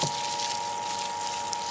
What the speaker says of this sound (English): I basically start by just wetting the area and just getting a little bit of water in there.